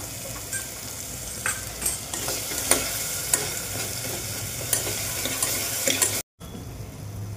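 Garlic paste with tomato puree sautés for chole masala, a continuous close sizzle dotted with stirring clicks and scrapes, cut by one short silent gap near the end.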